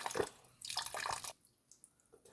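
Water splashing and sloshing as fish (murrel) is washed, a few bursts of swishing liquid followed by quieter drips, close by with no talking.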